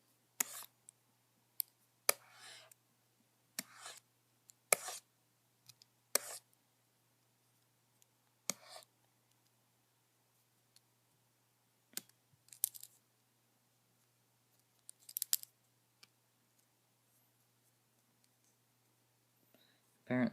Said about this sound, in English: clicking the button on the pen is a right click